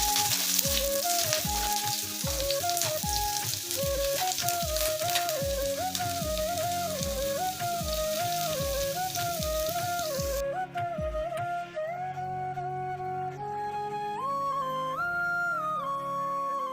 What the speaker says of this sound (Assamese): এফালে তেল পূৰা গৰম হৈ গ'ল আৰু এতিয়া মই প্ৰথমতে নহৰুখিনি দিছোঁ।